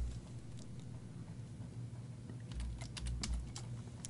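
Keys on a computer keyboard clack in quick, light bursts while code for a dynamic website is typed, close and fairly quiet, with a denser flurry of strokes near the end.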